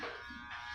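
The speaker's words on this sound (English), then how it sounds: "DIY, do it yourself, on how you can shave your head bald." An electric hair trimmer shaving a head bald, a close, steady buzzing drone that runs unbroken for under a second.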